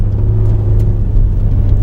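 A car engine hums steadily on a snowy road as the driver works the throttle through a corner, a close, continuous mid-low drone with slight surges and no talk.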